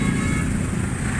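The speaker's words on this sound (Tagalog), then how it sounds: "bakit nagkaroon ng traffic na ganito?" Dense roadway noise in a provincial traffic jam in Tanza, Cavite, a steady low rumble of idling and creeping cars and motorcycles, continuous and close throughout the brief moment.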